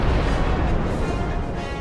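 A big cannon firing in the video game Monster Hunter 4 Ultimate gives a loud, dense, continuous booming roar with rolling rumble that fills the whole moment without a break.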